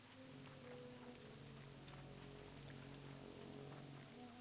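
A dense, continuous patter of game rain in World of Warcraft's Wetlands zone, evenly loud for a few seconds with a low ambient drone beneath.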